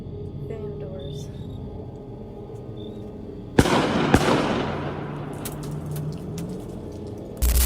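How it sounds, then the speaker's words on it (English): Two sharp, loud gunshot-like cracks from hunters ring out close to a camping van in a quiet outdoor spot, a few seconds apart, with a faint voice and ambient noise around them. "Out of nowhere, gunfire erupted nearby, instantly breaking the silence."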